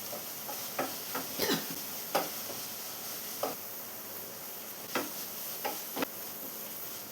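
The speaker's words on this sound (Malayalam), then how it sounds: "ഈ സമയം നമുക്ക് അല്പം വേപ്പില കൂടെ ചേർത്ത് കൊടുക്കാം" Curry leaves dropped into a pan of sautéing egg curry masala give a quiet, steady sizzle, with scattered sharp crackles and pops as they hit the hot oil.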